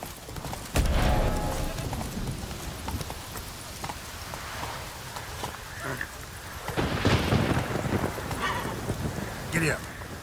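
A horse's hooves clip-clop at a gallop in The Witcher 3 video game, a rhythmic run of thuds with wind and game noise, and a voice briefly urges the horse on.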